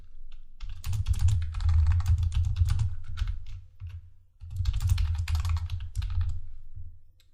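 Java code typed on a computer keyboard, a dense, steady run of close key clatter in two long bursts separated by a brief pause, with no voices.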